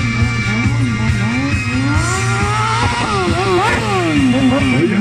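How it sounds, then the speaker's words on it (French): A stunt motorcycle engine revs and whines continuously at close range during a stunt show at Galeria Biker Bay 2019, pitch rising and falling in quick bursts, with a loud crowd roaring underneath. "Mesdames et messieurs, Sarah Lesito qui fait ce qu'elle veut de sa moto."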